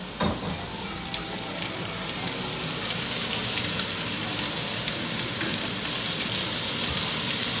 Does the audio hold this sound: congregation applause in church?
no